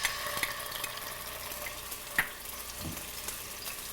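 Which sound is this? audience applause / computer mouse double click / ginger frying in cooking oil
ginger frying in cooking oil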